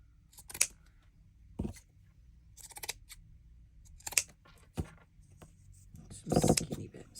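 Scissors snipping through lace in several separate close cuts, with soft rustling and handling between snips and no speech.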